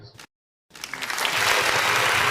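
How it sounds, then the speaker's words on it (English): A canned round-of-applause sound effect plays on a rugby league live stream, starting abruptly after a short blip and silence, then swelling into loud, dense clapping and cheering that grows louder to the end. "There's got to be a round of applause on here somewhere, right?"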